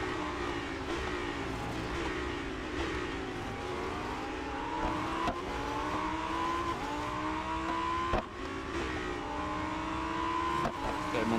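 Lamborghini Huracan STO engine in the Real Racing 3 mobile racing game, a steady high-pitched racing whine rising and shifting through gears with occasional tire noise, continuous and loud throughout the lap.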